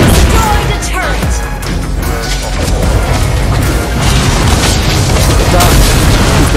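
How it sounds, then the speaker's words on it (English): A turret being destroyed in the mobile game Mobile Legends: a loud, dense rumbling crash with booming impacts and clatter, sustained throughout over busy game effects and music. "Your team destroyed a turret."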